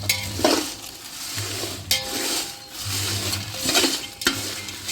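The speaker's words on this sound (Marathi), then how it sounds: "या पद्धतीने हे सर्व गरम मसाले मी परतून घेते" Whole garam masala spices and bay leaves dry-roasting in a pan, heard as a close, rhythmic scrape-and-rustle of stirring, with occasional clinks of the utensil against the pan.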